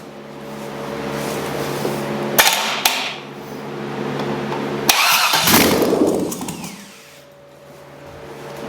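A small garage engine is forced to start and run, with a steady low idle hum broken by sharp mechanical bangs, then a loud surging rev that fades back to a quieter steady running tone, close by with no speech.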